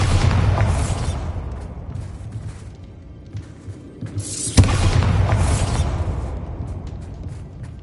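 Bombarda blasting spell explosions in Hogwarts Legacy: a loud booming blast fading into a low rumble, then a second sharp, close detonation with a rushing whoosh that slowly dies away.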